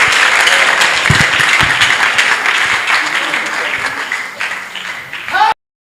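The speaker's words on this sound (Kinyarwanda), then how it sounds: "Tugukomeye amashyi menshi mu izina rya Yesu." A church congregation claps at a prayer service, with loud, dense applause held steady under a voice, then cut off abruptly.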